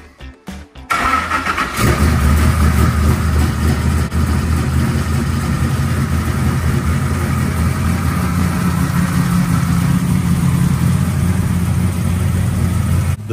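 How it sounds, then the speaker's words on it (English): A GM 572ci big block V8 in a 1970 Nova cranks briefly, fires up and settles into a loud, steady, rumbling idle that stays close and continuous. "The big block fired right up"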